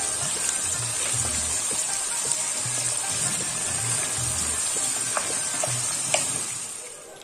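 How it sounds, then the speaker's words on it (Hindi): Chicken fries with cumin in a pan, crackling and sizzling steadily up close with scattered pops and scrapes, while soft background music runs underneath. "अब हमने इसमें डाल दिया है अपना चिकन। अब हम इसे थोड़ी देर तक फ्राई करेंगे अच्छे से।"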